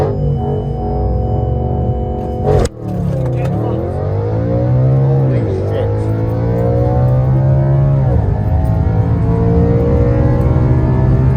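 An Audi RS5 V8 engine roars loud and close, with a sharp shift-like break followed by repeated rising and falling revs that keep a strong, steady growl throughout.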